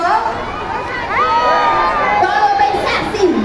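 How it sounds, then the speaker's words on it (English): A crowd of children and adults cheers and shouts for a trained bird at a bird show in a Manila oceanarium, a loud, continuous mass of overlapping voices. "Let's cheer for Rocky."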